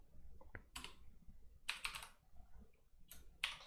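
Quiet typing on a computer keyboard, a few scattered keystrokes and short bursts of clicks with pauses between, close and soft in a still room.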